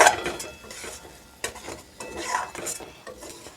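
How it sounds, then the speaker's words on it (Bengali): Bitter gourd seeds and spice mix being stirred in a hot wok for stuffed karela fry, soft scraping strokes and light sizzling in a few uneven bursts, close and fairly quiet. "এবার আমি কারেলার বীজগুলোকে ঢেলে দিলাম কড়ার মধ্যে এবার একটু সামান্য একটু আর নাড়াচাড়া করে নামিয়ে নেব"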